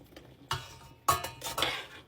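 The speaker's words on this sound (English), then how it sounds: "And I'm going to put them all into my soup pot." Rinsed beans tipped into a soup pot make a few separate clattering, rattling pours against the metal, each burst brief and close, with quiet pauses between them.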